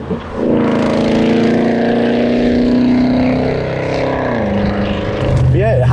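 A Land Rover Discovery's engine drones loudly and steadily while driving, its pitch sliding down and back as the speed changes, with a voice speaking briefly near the end.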